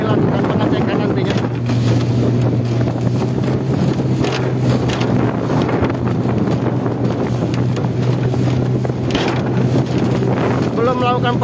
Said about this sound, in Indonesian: ada satu kapal motor yang baru saja melintas